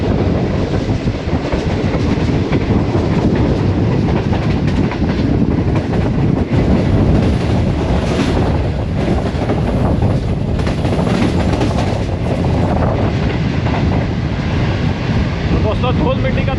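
A Green Line express train races through Harappa railway station at high speed, a loud continuous roar with clattering wheels and heavy wind buffeting close by, kicking up dust.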